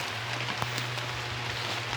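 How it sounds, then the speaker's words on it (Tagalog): Light rain patters steadily close by outdoors where a dwarf coconut seedling is being planted, soft scattered drops tapping over a low hum. "Ulan-ulan pa."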